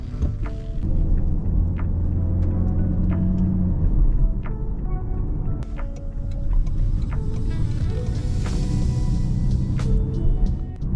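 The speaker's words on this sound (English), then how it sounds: "Let's take the C-HR for a drive." A Toyota C-HR 1.8 hybrid with 140 hp drives along, giving a steady low road rumble and engine hum with tire noise. A few faint clicks and knocks sit over the rumble, and nobody speaks.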